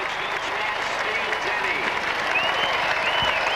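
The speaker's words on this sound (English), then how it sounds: "the biggest cheer of the evening for Steve Denny" A football crowd at a Bamber Bridge v Czech Republic friendly cheers and applauds a goal, a loud sustained roar and clapping, with a commentator's voice faintly under it.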